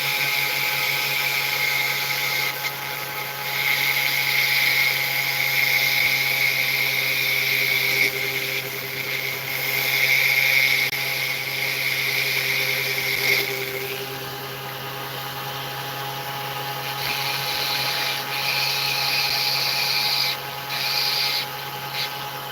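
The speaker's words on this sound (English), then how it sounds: "that was just me cleaning my drill bit off at the end there of any plastic that may have adhered to it" A small rotary drill spins at a high, steady whine while its bit is cleaned of plastic during gemstone setting for jewelry, with the pitch shifting slightly as it rubs, close and alone for about twenty seconds.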